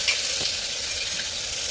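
Green chillies and garlic hit hot oil already crackling with mustard seeds and cumin for a tempering, giving a loud, steady, close-up sizzle with faint stirring scrapes.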